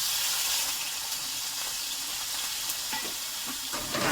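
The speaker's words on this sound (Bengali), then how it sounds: "তেলে মাথাগুলো দিয়ে দেওয়া হলো" Prawn heads sizzle and crackle in hot oil in a wok, a steady close frying hiss with small pops and a few louder spits near the end, no voices.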